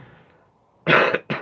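Two harsh, raspy coughs burst out close to the mic after a stretch of quiet murmur, the first long and heavy, the second shorter.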